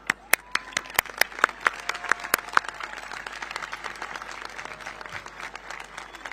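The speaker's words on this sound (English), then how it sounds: "Kiddos, let's give your parents a round of applause." Students at a high school graduation clap for their parents; a few sharp, close claps stand out at first, then blend into a softer, wider spread of applause from the room.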